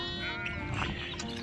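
A lamb bleats in one sustained, wavering call, close and fairly loud over steady outdoor background noise on a sheep farm.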